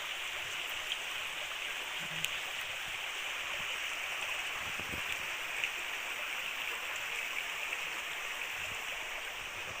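A stream flows on a farm with a steady, broad rushing of water that stays even throughout, with a few faint clicks and no talk.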